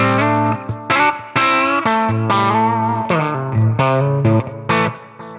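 Electric guitar played through a Tonex pedal preset with delay and reverb, a short phrase of distinct picked notes and chords ringing out with a distorted, chorused tone and echoing tails, loud and alone.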